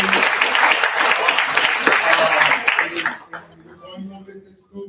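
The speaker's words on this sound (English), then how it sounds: "give it a round of applause for Google" An audience at a youth demo day event claps for a guest company, a full burst of applause and some chuckles that ends abruptly after about three seconds, followed by quiet room noise and a voice.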